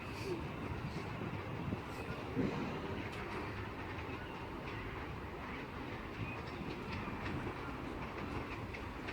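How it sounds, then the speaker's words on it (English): A Class 142 Pacer train from Newcastle pulls into Carlisle station, giving a steady, moderately distant rumble of rail noise with faint clicks and hiss that holds evenly throughout. "arriving in now is going to be another 142 pacer from Newcastle, terminating here"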